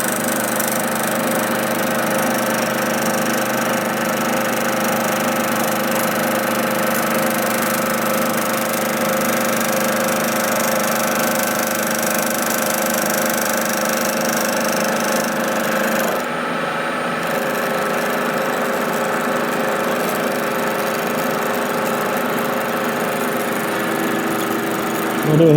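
A metal lathe facing the end of a stainless steel cylinder part gives a loud, steady, continuous mechanical whir that goes on without a break, dipping briefly partway through before carrying on.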